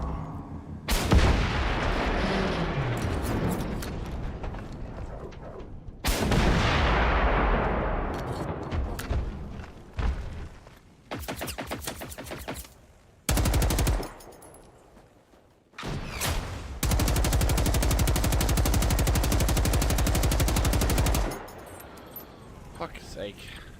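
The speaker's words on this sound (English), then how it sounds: "you've pushed me to using rocket launchers" Rocket launchers fired in the video game Generation Zero; several loud booming blasts with long rumbling explosions, separated by short gaps and quieter stretches, with a player talking over them.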